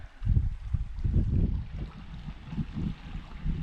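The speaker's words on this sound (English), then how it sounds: "the sound of that water just trickling out" River water trickles and burbles steadily at a riverside camp spot, a low, continuous rushing flow heard close and fairly loud with no voices.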